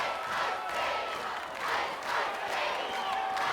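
A large arena crowd at an American Gladiators contest cheers and roars in surging waves, loud and continuous, with shouting voices mixed into the din.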